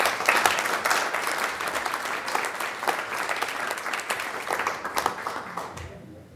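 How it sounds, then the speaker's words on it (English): A school board meeting audience gives sustained applause, many hands clapping steadily for several seconds in a room before the clapping tapers off at the end. "Maybe we can just give them all one more round of applause."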